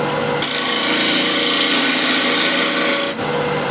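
A spindle gouge cuts a wooden bowl's tenon on a lathe, giving a steady, loud rasping scrape that runs almost unbroken, with a brief dip near the end.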